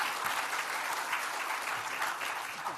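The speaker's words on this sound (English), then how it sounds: "let's give one more round of applause for this group" A conference audience applauds a panel group with steady, dense clapping that holds at an even level throughout, with no voices over it.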